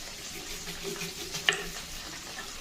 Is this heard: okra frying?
yes